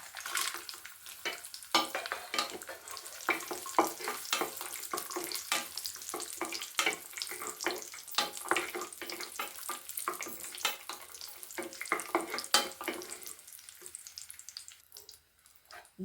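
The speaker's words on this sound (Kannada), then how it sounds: "ದ್ರಾಕ್ಷಿ ಗೋಡಂಬಿನ ಈ ಥರ ಫ್ರೈ ಮಾಡ್ಕೊಂಡಿದ್ದೀನಿ" Cashews and raisins fry in ghee with steady crackling sizzle and frequent stirring scrapes, moderately close, with no voices.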